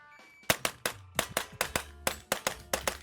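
A rapid string of about ten loud, close gunshots cracks out in quick succession during a timed shooting drill on a range, sharp and evenly spaced with no voices.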